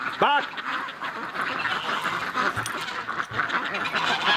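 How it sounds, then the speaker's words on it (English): Ducks quack as they play on a warm winter day, with one loud, close call near the start and fainter quacks and splashy bird noise continuing around it. "Oh, look at the ducks playing."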